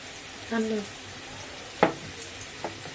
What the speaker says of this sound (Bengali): এক চামচ পেঁয়াজ বাটা দিয়ে এবার মা এটাকে আর একটু কষাবে